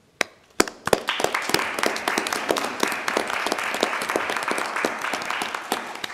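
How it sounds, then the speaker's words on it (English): A commissioners' meeting room fills with applause. It starts with a few sharp claps, then settles into steady, dense clapping from a modest crowd that carries on to the end. "I'd like to give the state a round of applause"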